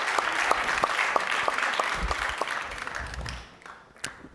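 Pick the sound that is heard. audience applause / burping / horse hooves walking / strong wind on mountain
audience applause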